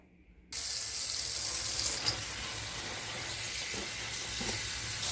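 Water from a tap pours steadily into a sink while perilla leaves are rinsed. The close, continuous rush begins abruptly after a brief quiet start.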